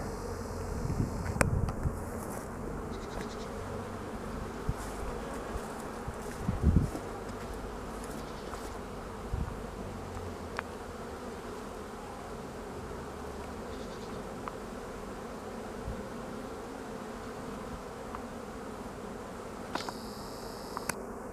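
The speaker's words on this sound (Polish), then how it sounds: "Masę pszczół" A steady, dense hum of many honeybees buzzing continuously at a hive in an apiary, with occasional soft clicks and faint outdoor background.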